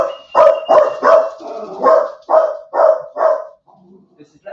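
A dog barks about eight times in a quick, steady series of loud, close barks, then falls quiet.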